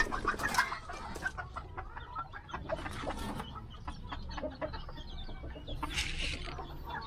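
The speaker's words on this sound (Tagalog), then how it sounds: "Meron pa tayo ditong inahin na Texas na naglilimlim." A Texas breed hen brooding on eggs in a backyard clucks and grumbles close by, a run of short, irregular clucks rising into a louder burst near the end.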